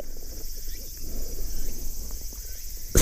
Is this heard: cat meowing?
no